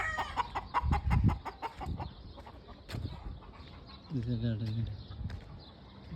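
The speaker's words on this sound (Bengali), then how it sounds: "দেশি মুরগা" Local desi chickens on a village farm with cows and ducks, giving scattered clucks and calls at moderate distance while people talk nearby.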